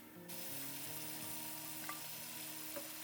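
Whole chilies slit in half sizzling in a pan while making Indian street-style noodles, a steady close crackling fry with faint stirring clicks and a low hum underneath, quiet and continuous.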